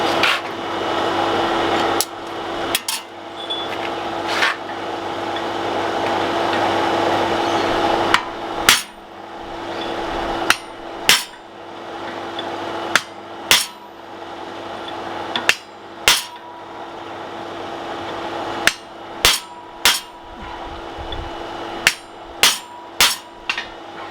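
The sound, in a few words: hammering a drift through a forged axe eye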